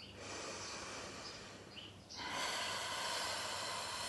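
Loud, deliberate breathing during a conscious-breathing exercise, a breathy, airy exhalation that swells and then holds steady, close to the microphone with no talking.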